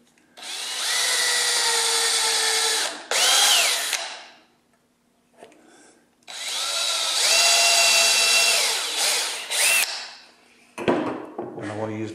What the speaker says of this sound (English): I drill a hole about a 1/2 inch deep